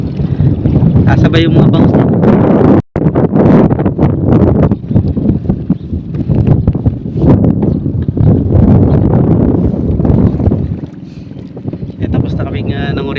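Strong wind buffets the microphone on a river, sounding loud and continuous throughout, with a boat's motion and water beneath and someone talking over it.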